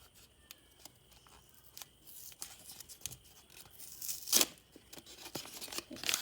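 A small plastic snack packet is torn and crinkled open by hand in a quiet indoor space, with sharp irregular ripping bursts and a louder tear near the end, no voices.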